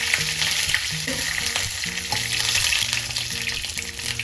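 Mustard seeds and green chilli frying in hot coconut oil, a continuous close crackle and sizzle with scattered popping over a low background hum.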